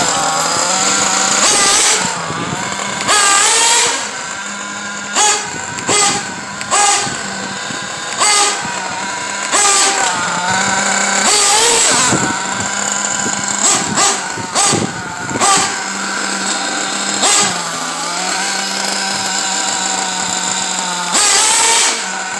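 A motorized vehicle riding on worn, nearly bald tires revs its engine continuously, rising and falling in loud, close, steady bursts.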